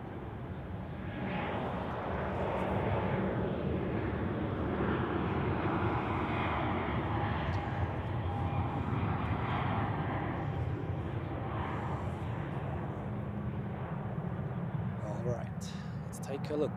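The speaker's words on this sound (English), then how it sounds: "Swiss A350 on short final for runway 14, inbound from Boston." A Swiss Airbus A350 on short final to runway 14 at Zurich Airport, its jet engines a broad, steady roar that stays loud across the whole pass while someone talks over it.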